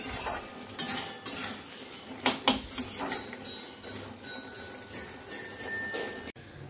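Pots and metal utensils clatter while potato curry cooks, a string of sharp clinks and scrapes landing every half second or so, close and fairly loud against a quiet kitchen background.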